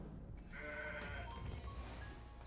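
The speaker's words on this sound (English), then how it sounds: "That's a goat." A goat bleats in the Legends of Runeterra card game, a wavering nasal call that carries loudly through most of the two-and-a-half seconds over a dense background of game sound.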